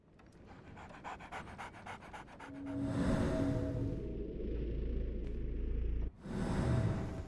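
Toby, a basset hound in the game Sherlock Holmes: The Awakened, pants steadily in rapid close breaths against a low rumbling game ambience that swells partway through.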